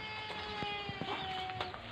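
Chickens cluck in short, soft bursts close by, a few scattered calls over a quiet farmyard hum.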